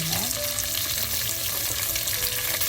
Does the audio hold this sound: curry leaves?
yes